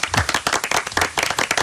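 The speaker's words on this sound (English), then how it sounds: "Round of applause for Frank." A studio host and crew give a round of applause for a caller named Frank: close, loud, uneven clapping from a small group, with distinct individual claps.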